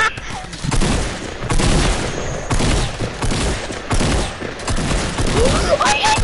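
Shotgun blasts in a first-person hide-and-seek video game match, several loud sharp booming shots spread across the span amid busy game noise, with players talking over them.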